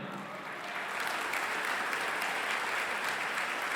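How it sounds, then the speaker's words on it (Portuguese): Congregation at a revival church session applauds for Jesus, steady crowd clapping that swells after a softer start and holds at a moderate, somewhat distant level. "Clap for Jesus."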